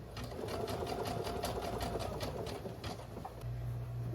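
A sewing machine running a satin stitch on a pillowcase, steady rapid needle chatter and motor hum, close and continuous.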